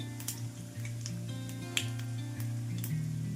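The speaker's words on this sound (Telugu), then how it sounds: "కొద్దిగా శనగపప్పు, అలాగే కొద్దిగా మినప్పప్పు. ఈ తాలింపు గింజలు కాస్త వేగితే" Chana dal and urad dal fry in hot tempering oil for an Andhra gongura pickle, giving a light crackle and sizzle with scattered sharp pops under steady tonal background music.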